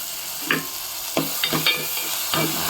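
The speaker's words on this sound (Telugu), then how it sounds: "ఆవాలు, ఆనియన్స్, టమోటా, కొంచెం కరివేపాకు వేసుకుని వేగుతుందండి." Mustard seeds, onions, tomato and curry leaves fry for tomato rasam, a steady hissing sizzle with several distinct stirring scrapes spaced through it, close and fairly loud.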